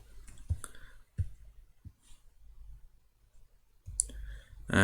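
A computer mouse gives a few sharp, close clicks, spaced irregularly across a quiet stretch while working in CAD software.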